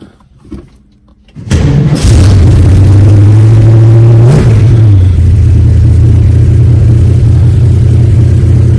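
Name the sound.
1965 Ford Mustang engine running after cold start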